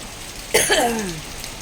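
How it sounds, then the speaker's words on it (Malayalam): Steady monsoon rain during the Onam season in Kerala hisses evenly throughout, close and continuous, with a brief throat clearing and a short voiced sound partway through. "ഇപ്പോൾ ഓണായിട്ട് ഫുള്ള് മഴ കണ്ടോ"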